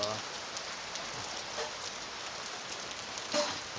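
Steady rain patters on a surface, a dense continuous hiss with scattered louder drops and no voices.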